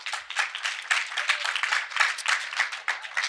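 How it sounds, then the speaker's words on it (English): Conference audience at RubyConf claps for event sponsors, a lively burst of many hands with an uneven, rippling rhythm, bright and fairly close, with no talking over it. "So if we get a round of applause"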